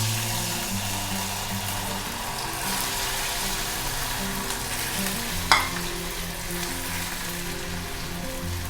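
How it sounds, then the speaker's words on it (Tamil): Cut idli pieces fry in hot oil, giving a continuous close sizzle with one brief sharp crackle partway through. "கட் பண்ண இட்லியை வந்து இந்த பக்கம் வந்து நம்ம பொரிச்சிக்கலாம்."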